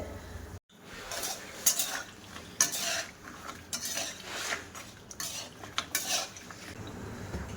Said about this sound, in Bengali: হাতে সময় নিয়ে এই পাপড়ি চাটগুলো ভাজা করে নিতে হবে